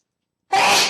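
A single loud, close sneeze bursts out abruptly after a moment of silence, with no talking around it.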